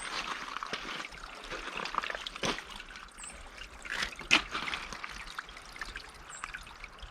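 Water from a natural spring on an off-grid Alaska homestead trickles and drips steadily, a soft continuous dribble with a few brief louder splashes, faint outdoor background throughout.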